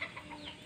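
Hens clucking and squawking faintly in a quick flurry of short calls, a few sharp bursts within a brief moment, sounding like farmyard chickens scuffling at a distance.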